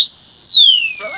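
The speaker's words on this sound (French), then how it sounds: "Deuxième choc, il va crier une alarme de 90 décibels" A 90-decibel alarm padlock shrieks after a second shock, a loud piercing electronic tone sweeping up then slowly down, with a burst of rattling handling noise near the end.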